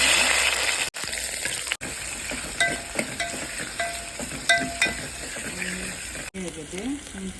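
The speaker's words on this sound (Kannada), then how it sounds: "ಎಣ್ಣೆ ಕಾದಿದೆ. ಈಗ ಈರುಳ್ಳಿ ಹಾಕ್ತೀನಿ." Onions drop into hot oil in a pot and fry with a constant hiss, with scattered clinks and stirring knocks and a few abrupt cuts, while a voice speaks in places.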